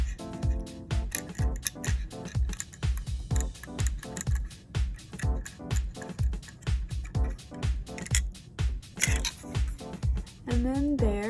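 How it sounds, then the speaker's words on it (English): Scissors cutting string for string nail art, a rapid series of sharp close snips repeating in steady rhythm across the whole stretch, with brief talking at the end. "I'm just gonna go ahead and cut it."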